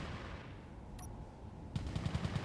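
Turret gunfire crackles in Space Engineers, a quick burst of about seven rapid shots near the end after a quiet rumbling stretch, fairly faint and with no talking.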